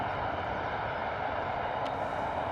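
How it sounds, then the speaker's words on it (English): A Ryanair plane landing on runway 27 at Bristol Airport in a crosswind, heard as a steady, loud, broadband engine roar that holds without a break. "Ryanair coming in true Ryanair style."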